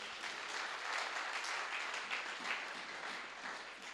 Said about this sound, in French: Acclamons le Seigneur pour ça.